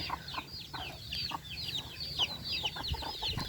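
Several farmyard chickens cluck and chatter in quick, overlapping calls, fairly close and steady throughout, with a low background hum and no talking.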